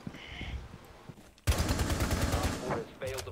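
Gunfire in Rainbow Six Siege during a hide-and-seek match: a sudden loud sustained burst of rapid automatic shots emptying a magazine, with players talking around it.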